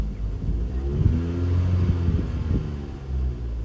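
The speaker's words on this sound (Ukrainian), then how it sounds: "Погазуємо трошки." A Kia car engine, during a DIY fuel system cleaning, is revved a few times, a close, loud low rumble rising and falling in short pulls with no talking.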